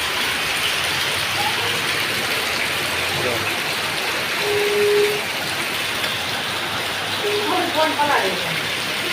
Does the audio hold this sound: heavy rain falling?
yes